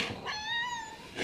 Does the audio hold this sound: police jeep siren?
no